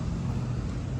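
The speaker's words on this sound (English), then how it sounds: "A lot more cars here." Passing cars near a work site's guard shack create a steady, fairly loud rush of road noise with no break and no voices.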